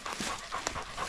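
Overheated coon hunting dogs pant hard and fast after a hot summer chase, close and loud, with a quick ragged rhythm of breaths and a faint whimper mixed in.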